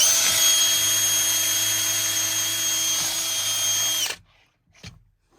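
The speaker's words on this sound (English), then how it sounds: "I'm just going to quickly drill a hole in the bottom of the tank." A power drill bores a hole through the bottom of a Chieftain tank, a loud, steady high-pitched whine lasting about four seconds before cutting off abruptly, leaving faint scraping afterward.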